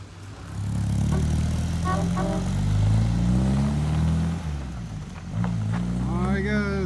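A 1960 MGA speedster pulls away on a test drive, its engine droning and rising as it accelerates off, with a person talking nearby.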